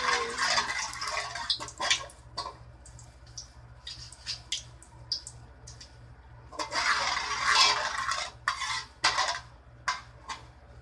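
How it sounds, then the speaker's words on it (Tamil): Whole cloves frying in a pan, producing scattered crackling pops and spluttering bursts along with light metallic clinks of a utensil, close by, with a denser burst of crackling partway through and no talking. "ஒரு அஞ்சு கிராம்பு நாற்பது கிராம் வந்து தெரிக்கும் அதனால் பார்த்து"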